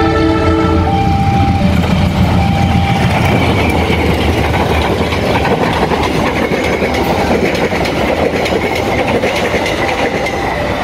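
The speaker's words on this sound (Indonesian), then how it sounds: "akan segera masuk kereta api dari arah timur" A Serayu passenger train from the east rumbles steadily past at close range through Lemahabang station, Indonesia, wheels clattering over rail joints, with a brief horn-like tone at the start; no voices.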